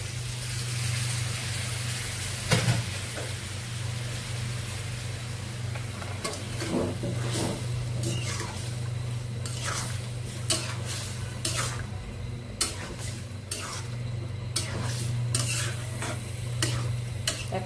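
Meat being stir-fried as kosha in a pan with yogurt added sizzles steadily beneath a low hum, while repeated spatula scrapes and taps against the pan sound at an irregular rhythm, close and clear.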